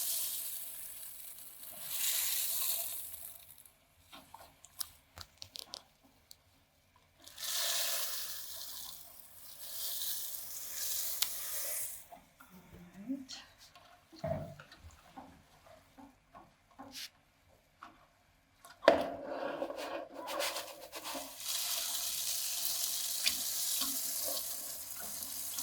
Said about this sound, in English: You should stir it really well so that there are no lumps formed inside the grains.